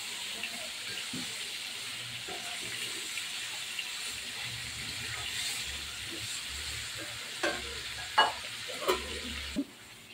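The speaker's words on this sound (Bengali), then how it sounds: "এবার আমি বেশ কিছুক্ষণ কষিয়ে নেব মাংসটা।" Chicken pieces fry in spice masala as they are stirred, a steady low sizzle with occasional spatula scrapes growing more distinct near the end, close and moderately quiet.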